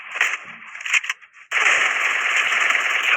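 In the mobile video game Free Fire, gunfire crackles in short bursts and then breaks into a loud, continuous rapid stream of shots.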